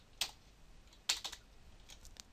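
A computer keyboard is typed on for a URL, giving a few sparse, quiet key clicks in a near-silent room, two slightly stronger taps and several fainter ones.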